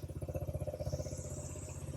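A Yamaha Raptor 50 ATV engine idling after a carburetor cleaning, a small single-cylinder motor ticking over in a fast, even putter, close and steady.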